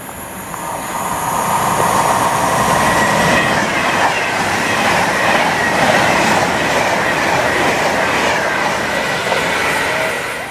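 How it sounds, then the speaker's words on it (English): An express train passes close by on a railway line near Rugeley, a loud sustained roar of wheels and rail clatter with faint squeals that rises quickly and holds for the whole pass. "there is an express coming"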